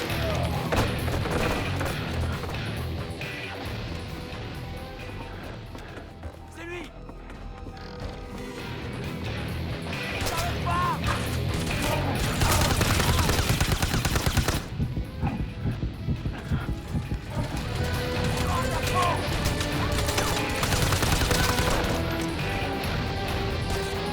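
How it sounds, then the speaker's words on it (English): Continuous loud gunfire in the shooter game Wanted: Weapons of Fate, dense overlapping shots and crashes mixed with game music and effects that swell and ease over the stretch. "I just shot you in the face and chest with 7 or 8 bullets"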